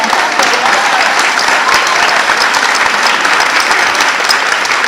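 A lecture audience claps steadily in dense, loud applause that fills the whole stretch, with no talk over it.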